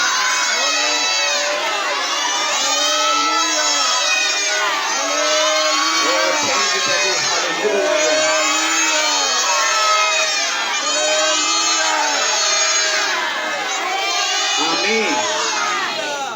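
Congregation at a church gathering loudly and continuously shouting praises, many voices overlapping in rising and falling cheers and chants that fill the space.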